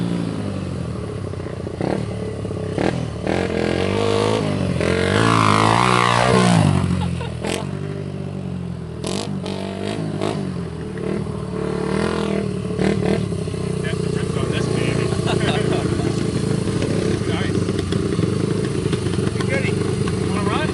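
A rare Redline Honda XR75 motorcycle engine sputters and is blipped into a few sharp revs, then settles to a rough idle, close by with people talking over it.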